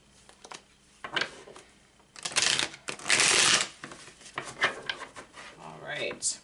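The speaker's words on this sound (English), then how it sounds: "Make sure this is nice and shuffled here." A deck of cards is shuffled close up in several quick riffling bursts, with the loudest, longest run in the middle and softer card handling before and after.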